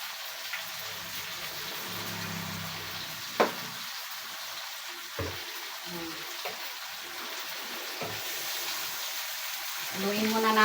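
Chicken adobo frying in a pan, a steady soft sizzle with occasional scrapes and knocks from stirring, while a person talks in the background.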